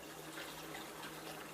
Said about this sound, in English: continue to pour the rest of the volume